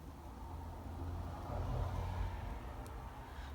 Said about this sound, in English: sometimes I know you guys can hear like cars passing